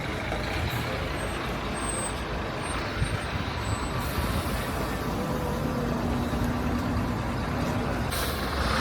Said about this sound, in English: This bus.